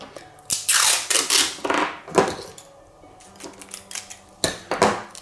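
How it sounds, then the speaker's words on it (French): Adhesive tape is pulled off a roll and pressed onto a handmade notebook in several quick, crackling tearing bursts, close up, with short pauses between. "Donc là grossièrement je viens mettre le scotch."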